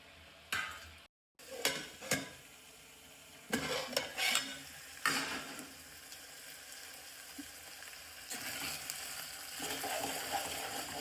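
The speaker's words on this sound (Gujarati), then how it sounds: "જો આપણે કમ્પ્લીટલી તેલમાં શેકાવા દીધા છે ચણા પણ." Green chickpeas roast in oil in a pan: soft sizzling runs under intermittent clattering scrapes and taps of a spoon stirring, with a few louder bursts of stirring and a brief silent gap.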